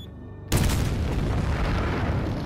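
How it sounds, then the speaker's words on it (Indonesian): A bomb goes off on a bridge amid fireworks: a sudden deep boom bursts in after a quieter start and rolls on as a dense, rumbling roar that stays loud to the end. "begitu dinyalakan, sebuah bom pun meledak membakar jembatan itu"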